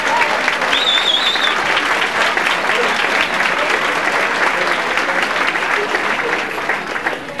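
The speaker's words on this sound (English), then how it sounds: "I'd like to have a round of applause for that" Loud, continuous applause fills the room at a Proviso West class of 1967 twentieth reunion, a dense crowd clapping steadily with a few faint voices mixed in, tapering slightly at the end.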